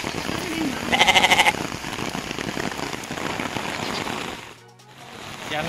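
Goats bleat in a short burst through steady heavy rain falling on a muddy road in Kalinga, Philippines, the bleating loud and close against the constant patter.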